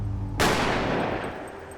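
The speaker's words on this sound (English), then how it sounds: "The night erupts in gunfire and there's a shooting on the deck." A dramatized gunshot rings out on a cruise ship deck at night: one loud, sharp blast that cuts off a low hum and then decays into a long, noisy reverberant tail.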